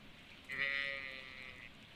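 A single sheep bleating in the video game Stardew Valley, one drawn-out, wavering bleat lasting about a second, fairly quiet against a faint background.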